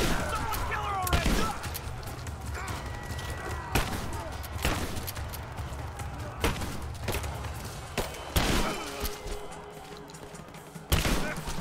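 Gunfire during a village ambush in the video game Rise of the Tomb Raider: sharp, loud shots arriving in irregular bursts every second or two over a rumbling background, with voices talking between them.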